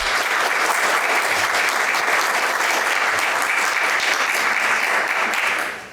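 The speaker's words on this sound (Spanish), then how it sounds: "Julia Viñas y Lucía Guerrero, para quienes pido fuertes aplausos." Loud, dense audience applause at a children's literature talk in Peru, steady throughout and tapering at the very end, with no voices over it.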